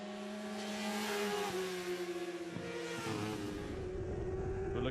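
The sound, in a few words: Kawasaki ZX-R 400 motorcycle engine racing, onboard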